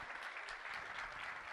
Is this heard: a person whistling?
no